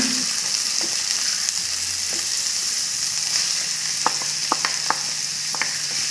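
Chopped green chillies and onions frying steadily in hot oil in a pan for an onion mutton fry, a continuous close sizzle with a few sharp spoon clinks toward the end.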